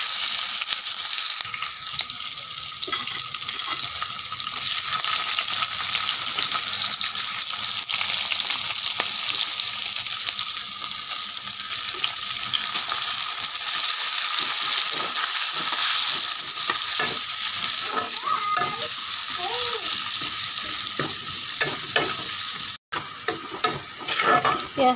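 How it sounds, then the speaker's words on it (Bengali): Dried chili, a bay leaf, whole cumin and chopped onion sizzle in hot oil in a wok for a village-style fish curry, a loud, steady frying hiss with occasional stirring scrapes and clatter, no talking. "কড়াইতে তেল আছে, এবার দিয়ে দিব শুকনো লঙ্কা, একটা তেজপাতা, দিয়ে দিব অল্প গোটা জিরে, দিয়ে দিব পেঁয়াজ কুচি"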